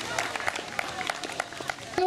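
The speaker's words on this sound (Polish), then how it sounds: "To już wielkie brawa, bo oboje biegali" Polish awards ceremony for a running event: a crowd's scattered, fairly faint applause forms uneven clapping bursts. A voice speaks over the clapping.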